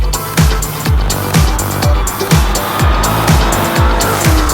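A 2015 Dodge Charger SRT Hellcat roars loudly and close, its engine and exhaust rising in repeated surging sweeps about once a second, with squealing tires woven in.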